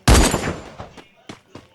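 A gunshot rings out in a video game firefight, one loud sharp blast with a decaying echo, followed by several fainter shots a moment later.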